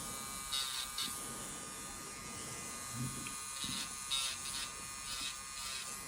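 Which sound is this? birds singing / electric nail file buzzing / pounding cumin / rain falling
electric nail file buzzing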